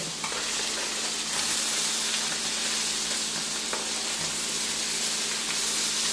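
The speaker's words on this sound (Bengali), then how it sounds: "তাই মাছগুলি আস্তে আস্তে ভাজা হবে।" Poma fish fry in hot oil in a pan with water lilies, making a steady, dense sizzle and crackle that stays even and close throughout, with no voices.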